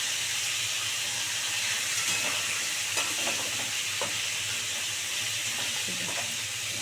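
Pointed gourds frying in a pan over low gas, a steady soft sizzle and hiss with a few faint scrapes and clinks of stirring, close and alone with no voices.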